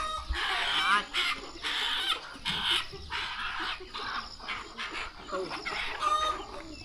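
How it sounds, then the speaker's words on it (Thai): Chickens clucking in a countryside village of the Katu people, repeated close clucks and short calls in irregular bursts, fairly near and clear over a quiet background. "ได้ยินเสียงเป็ดเสียงกาเสียงไก่ห้อง"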